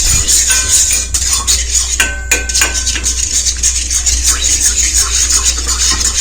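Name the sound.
stirring tea decoction in a pan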